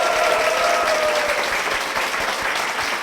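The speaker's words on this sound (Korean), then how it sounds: "우리 두 분께 다시 한번 큰 박수 부탁드리겠습니다" Church congregation applauding two guests: a dense, even burst of clapping throughout, loud and close, with no talk over it.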